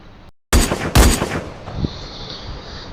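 Video-game gunfire in a headshot-focused shooter match: after a brief silent gap, two loud, sharp shots ring out close together, followed by a smaller pop and a fading, high-pitched tail.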